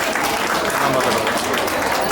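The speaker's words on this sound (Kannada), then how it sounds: "ಒಂದು ಜೋರಾಗಿ ಚಪ್ಪಾಳೆ" Loud, dense applause from an audience at a joint birthday celebration on stage, a continuous wash of clapping filling the whole stretch with a faint murmur of crowd beneath it.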